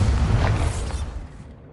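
A Bombarda explosion spell going off in Hogwarts Legacy, a single deep booming blast with a rumbling tail that fades out over a second or so, loud and close.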